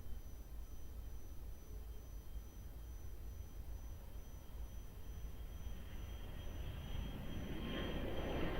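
Jet aircraft engine roar at Lisbon Airport during takeoff on runway 02, a steady broadband rumble that builds and grows louder toward the end, with no voices.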